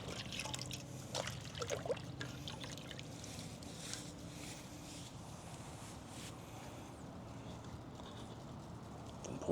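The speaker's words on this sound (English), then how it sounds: "And then rinse out the basket or sieve." Water trickles and splashes faintly as a basket or sieve is rinsed after straining grapes, a soft irregular wash with occasional small drips and clatters.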